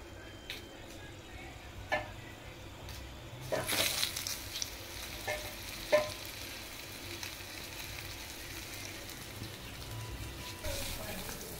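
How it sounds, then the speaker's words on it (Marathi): Fish fries in a pan with a faint, low sizzle and intermittent light ticks and clinks, the bursts growing louder for a moment before settling back to a quiet crackle. "तर चला मग आता सगळी मच्छी मी अशीच मस्तपैकी अशी फ्राय करून घेते"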